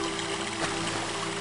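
A blood waterfall in the video game Shadow Man gives a continuous rushing, gurgling flow of liquid with a steady loudness.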